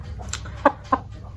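Chickens feeding greedily, with a few short, sharp pecks or clucks standing out over a low steady background rumble.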